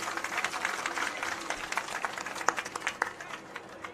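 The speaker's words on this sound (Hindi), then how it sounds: "पहले तो एक बार जोरदार तालियां हो जाए हमारी माताओं बहनों के लिए।" Crowd clapping and applauding at a political rally in Jaipur, a dense, fairly faint wash of many hands from a distance.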